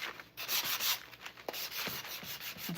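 A sanding block rubbing over the painted edges of a handmade wooden Christmas bow, with short, close, scratchy back-and-forth strokes in an uneven rhythm and no talking.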